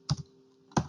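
Bursts of computer keyboard typing while entering comments in Autodesk A360 Revit software: two short clusters of quick, close key clicks separated by a quiet pause.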